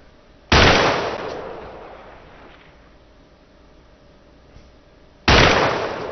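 Two loud, isolated sniper rifle shots in ARMA 2, spaced roughly five seconds apart, each a sharp crack with a long fading echoing tail over a quiet background.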